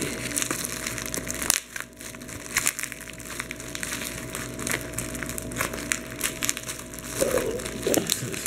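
Heavily taped cardboard package being pulled and torn open, with steady close crinkling, crushing and ripping of tape and packaging throughout, in several louder bursts.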